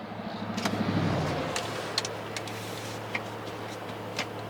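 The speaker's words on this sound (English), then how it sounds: "So I figured we would do a little bit of noise on the BMW here" A BMW 335xi idles with a low steady hum by the roadside, its engine briefly swelling early on before settling, with faint ticks and clicks scattered over the drone.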